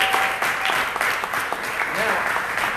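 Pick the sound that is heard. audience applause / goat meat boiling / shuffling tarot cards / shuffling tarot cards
audience applause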